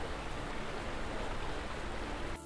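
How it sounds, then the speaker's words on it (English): A river's flowing water makes a steady, continuous broadband rush with no breaks, looping evenly as a close ambient bed with no voices. "this river flow sound effect that is playing in a loop"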